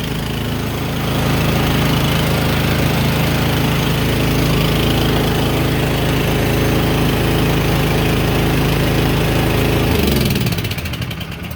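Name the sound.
Troy-Bilt snowblower engine running without surging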